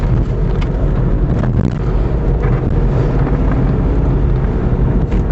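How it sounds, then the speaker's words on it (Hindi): Engine and road noise from a diesel Volkswagen Cross Polo cruising at about 60 km/h, a steady, continuous low rumble with broadband hiss and no voices. "गाड़ी फ़िलहाल 60 के स्पीड में है,"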